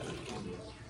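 Coconut water poured for a raw vegan smoothie: a brief, close, steady splashing rush of liquid.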